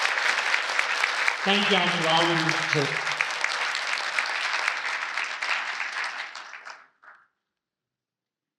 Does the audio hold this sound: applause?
yes